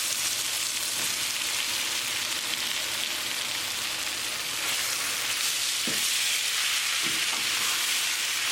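Beef and mushrooms frying in a pan over high flame, a steady, dense sizzle filling the whole stretch with a couple of faint scrapes or clinks near the end.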